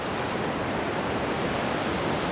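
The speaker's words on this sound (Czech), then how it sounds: "Fakt je to hodně vodopádů." The Iguazu waterfalls in Brazil roar in a steady, dense wash of falling water, loud and unbroken from start to finish with no voices.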